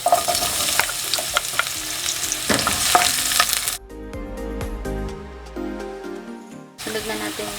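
Garlic frying in oil at the start of cooking Bicolano laing, a steady broadband sizzle with stirring scrapes, loud at first, then a quieter stretch with music over it before the sizzle returns.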